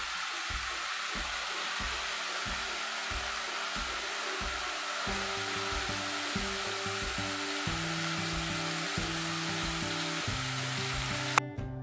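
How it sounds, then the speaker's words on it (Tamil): Tomatoes sautéing in a pan for crab gravy: a loud, steady close sizzle throughout, with regular low scraping stirs in a repeating rhythm and a sharp knock right at the end. "தக்காளி கொஞ்சம் லைட்டாக வதக்கணும்."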